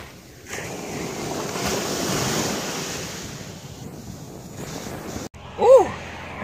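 Ocean surf at a Florida beach, a broad steady wash of breaking waves with wind buffeting the microphone, easing off before a short gap and a brief louder burst near the end.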